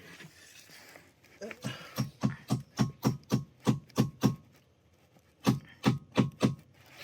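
Repeated sharp metallic hammer blows on a pipe clamp, a quick run of about ten strikes, a brief pause, then four more, close and loud.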